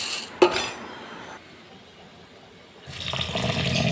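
Water runs into a bowl of four cups of measured basmati rice to soak it, a steady moderate pour with a sharp splash near the start and a louder, fuller rush of water toward the end.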